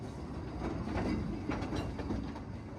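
Leighton Buzzard narrow-gauge railway train running steadily, a continuous low rumble with faint rhythmic clatter of wheels on track, moderately distant and without voices.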